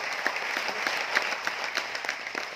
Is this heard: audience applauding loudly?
yes